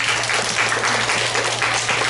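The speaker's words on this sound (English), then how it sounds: "Clap your hands for Gage Owens." Dense audience applause and clapping at a martial arts anti-bullying seminar, a steady loud wash of many hands throughout with a low hum underneath.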